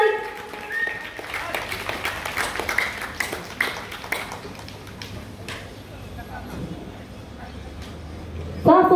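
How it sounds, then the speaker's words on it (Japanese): Dense, steady applause from a baseball stadium crowd welcoming the ceremonial first-pitch guest at a Saitama Musashi Heat Bears home game. The clapping sounds broad and continuous, with some louder bursts near the end. "皆様大きな拍手でお迎えください"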